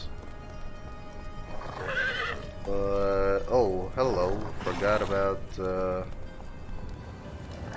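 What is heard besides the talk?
horse hooves in video game Conan Exiles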